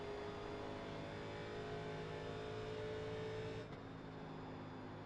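Race car engine at full throttle at Indianapolis in the iRacing sim, a loud sustained high-pitched drone with a steady tone that drops slightly near the end, no voices.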